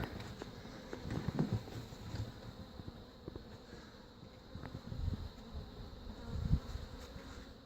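Honey bees buzz around an open hive during queen cell removal, a steady low drone with a few louder swells as individual bees pass close to the microphone.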